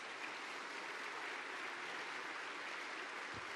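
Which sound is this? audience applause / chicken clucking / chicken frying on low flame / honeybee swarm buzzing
audience applause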